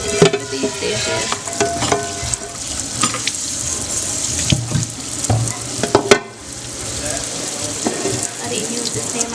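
Tap water runs into a kitchen sink while a pan, last used in the oven, is scrubbed and knocked about, giving steady splashing and rushing water broken by clanks and scraping, close and fairly loud.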